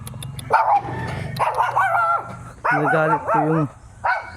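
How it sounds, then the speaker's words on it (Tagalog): A dog barks and yips several times in short bursts, close and loud, with a few whimpering tones between, in a rural province of Bohol, Philippines. "Nagalit po yung aso nang dumaan po ako."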